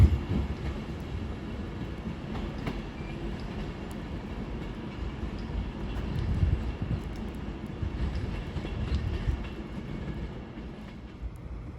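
Class 197 passenger train, unit 197049, rolling into Crewe station on a terminating service, a low steady rumble of wheels on rail with occasional clicks and a swell of noise midway, no voices.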